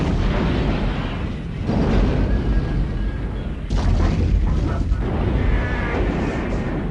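A building blows up in an animated action scene, heard as a sustained, loud roaring rumble with deep booming surges that flare up again partway through, filling the whole stretch without any talk.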